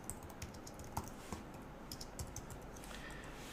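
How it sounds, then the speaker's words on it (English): Someone types steadily on a computer keyboard, a close, quiet run of irregular soft key clicks with occasional sharper taps, no voices. "I just begin typing away"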